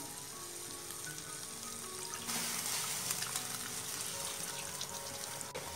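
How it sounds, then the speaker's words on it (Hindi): Water is poured into a pan of chicken mughlai as it cooks, a soft trickle swelling into a fuller, splashing pour midway, quiet and close with no talking. "साथ ही हम इसमें पानी ऐड कर देंगे"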